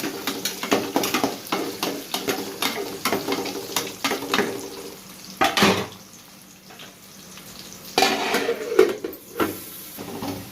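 Onions frying in hot oil in a pan while being stirred, steady sizzle broken by scraping stir strokes and a few louder clatters, close and moderately loud, no talk.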